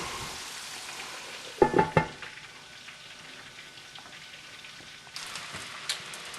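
Cornish game hens deep frying in oil in a lidded pan, a steady close sizzle with a brief louder crackling burst, then a brighter hiss as the sizzling picks up near the end.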